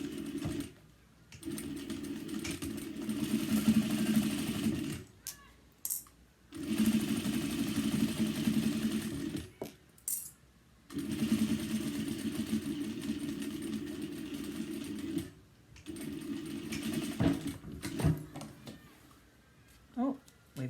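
A sewing machine back stitches a seam on a cross body bag, running in loud, close bursts of several seconds separated by short pauses, with brief quiet gaps between runs.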